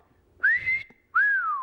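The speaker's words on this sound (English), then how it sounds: "that's called the wolf whistle" A person whistles a classic two-part wolf whistle, a rising note then a falling one, clear, close and alone.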